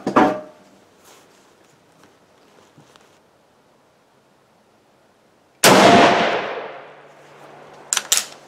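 A 7.5x55 Swiss rifle fires a single 42-grain K11 handload outdoors, one sharp loud report with a long decaying echo, followed by a couple of quick metallic clicks from the action; faint handling noises before the shot.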